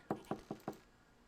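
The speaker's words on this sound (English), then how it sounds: "Knock, knock." Four quick, evenly spaced knocks on a door in the video game Missed Messages, sharp and close, followed by quiet.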